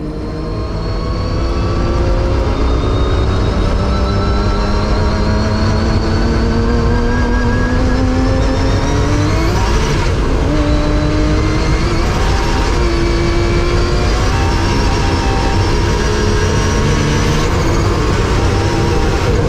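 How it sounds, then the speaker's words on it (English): A 2JZ-powered streamliner race car makes a speed run at Bonneville, its loud engine roaring steadily and climbing in pitch through repeated gear changes, sustained and close with no talk. "This is a 300-plus-an-hour car."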